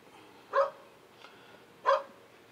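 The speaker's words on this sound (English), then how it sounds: "Apologies for the dogs barking." A dog barks twice, about a second and a half apart, with a faint yip between, fairly close in an otherwise quiet room.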